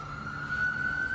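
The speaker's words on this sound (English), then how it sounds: "Ambulance." An ambulance siren passes outside an auto body shop, a steady loud wail holding one high pitch for over a second without any speech.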